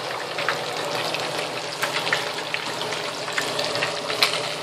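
Food with garlic powder and cayenne pepper frying in a pan, a steady close sizzle with scattered small pops and crackles throughout, no talking.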